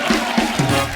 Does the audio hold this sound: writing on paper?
no